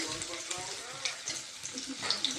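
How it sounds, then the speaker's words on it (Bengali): Rice pakoras fry one after another in hot oil, making a dense bubbling sizzle with small pops and a few scraping touches, heard close up with no voice. "তেলটা গরম হওয়ার পর এই একের পর এক আমি পকোড়িগুলোকে ভেজে নিচ্ছি"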